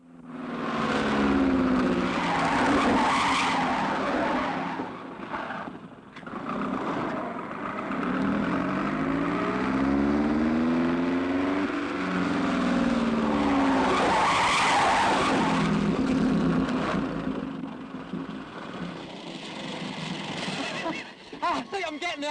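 A 1962 car skids with tires squealing in long, loud wails that rise and fall over a running engine, while voices talk through parts of it.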